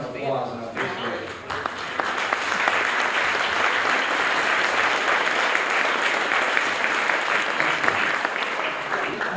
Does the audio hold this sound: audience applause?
yes